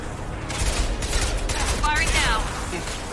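Gunfire in the video game Mass Effect 2 on Insanity difficulty, a dense, loud volley of shots and blasts over a steady roar, with a short rising electronic whine partway through.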